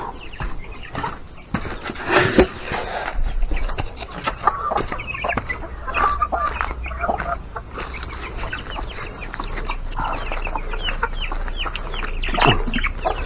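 A flock of chickens clucks and squawks continuously nearby, busy overlapping calls with scattered rustling, no talking.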